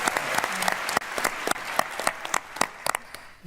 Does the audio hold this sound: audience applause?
yes